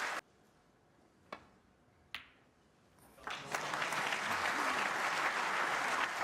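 The Crucible crowd bursts into loud, sustained applause for Ronnie O'Sullivan's break at the 2012 Snooker World Championship, following a few isolated sharp clicks in a hushed arena.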